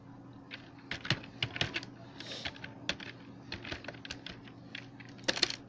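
Rapid, uneven keystrokes on a computer keyboard while a file is named during a CSS tutorial, close and fairly quiet, with a few louder taps and a faint steady hum beneath.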